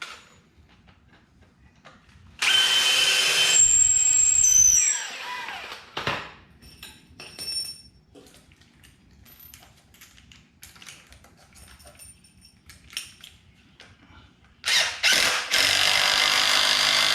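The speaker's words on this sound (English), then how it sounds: "make sure that you drill in deep enough" A power drill bores into wood while a workbench is being built, in two loud whirring bursts near the start and end, each with a rising whine, separated by quieter taps and handling sounds.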